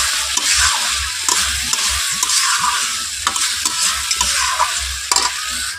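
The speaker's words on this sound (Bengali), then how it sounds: "আর এখানে দেখো মশলা কষে নিয়ে এখন আমি আলু দিয়ে দিয়েছি।" Potatoes being stirred and fried in sautéed spices for a Bengali vegetarian dish, a loud close sizzle with repeated scraping strokes of a spatula against the pan, no voices.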